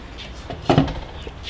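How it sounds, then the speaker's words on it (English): A lid set onto a pot of simmering turkey and black bean soup: one short clattering metallic clink, close and fairly soft, over a quiet kitchen background. "So now I'm going to put a top on it."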